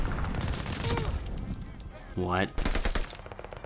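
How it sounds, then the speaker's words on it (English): Gunfire in the Call of Duty Vanguard video game: rapid bursts of automatic fire and sharp shots under a player's excited talk, with a rising whine midway. "I know that there's like gunshots coming towards it"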